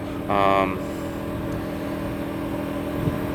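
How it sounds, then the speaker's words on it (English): A generator drones in the background of a busy parking lot, a low steady hum, with a brief passing engine whine near the start. "You can hear the generator in the background."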